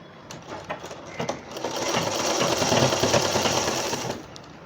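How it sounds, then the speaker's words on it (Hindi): Sewing machine stitching a folded fabric strip onto a baby cap, a close, steady motor whir that starts with a few short bursts and then runs continuously before stopping near the end. "उसी हिसाब से कपड़ा अंदर करके हम सिलाई लगाएंगे इस पर"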